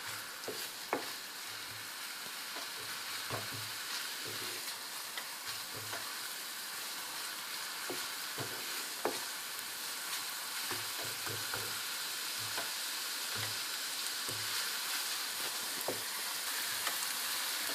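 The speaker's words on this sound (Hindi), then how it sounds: "अब मैं इसमें लहसुन का पेस्ट डाल के इसको थोड़ा फ्राई करना है" Garlic paste frying in hot oil, a soft steady sizzle with occasional light stirring clicks, faint and continuous without talk.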